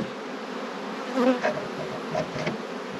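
Honeybees hum and buzz close by around a hive, a steady droning swarm with a few louder passes drifting near, and no voices.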